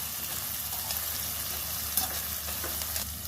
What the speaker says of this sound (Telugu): ఇప్పుడు బాగా వేయించుదాం ఉల్లిపాయలని